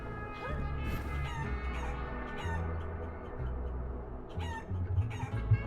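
Clucking chickens in the video game Guacamelee, repeated squawks and clucks over steady game music, fairly close with no talking.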